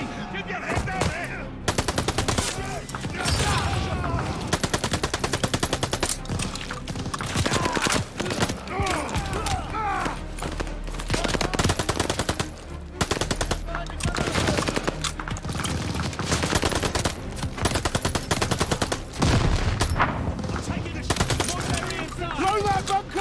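Machine gun fire rattles almost without pause in a Call of Duty: Vanguard battle, dense continuous bursts close by with shouted voices mixed in, broken by a few short gaps.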